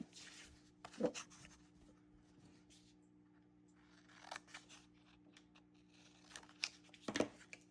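Paper coloured in and snipped into a small triangle for a kids' mixed-media bird craft: quiet scratchy scribbling with a few sharp scissor cuts in short bursts, close and faint, with a steady low hum behind.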